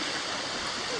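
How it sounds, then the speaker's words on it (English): Water gurgles and rushes steadily along a stream in a rainforest in the morning, a dense, loud, continuous wash filling the whole moment with no break. "I love the sound of gurgling water in the morning."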